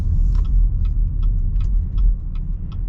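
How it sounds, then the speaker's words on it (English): Steady low road rumble inside a 2023 American SUV driving on a snowy road, loud and continuous tire and engine drone with faint regular ticking layered above it, no talk. "Pretty quiet too, with the overall like road noise and everything"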